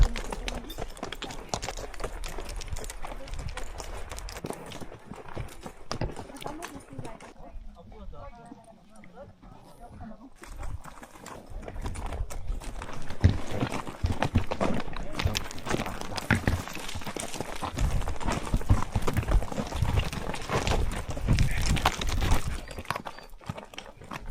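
Steady clip-clop of horse hooves walking at a close distance on a ride at Kaindy Lake, Kazakhstan, with people talking over the rhythmic clatter throughout.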